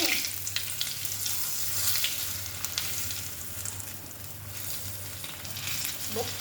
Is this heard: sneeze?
no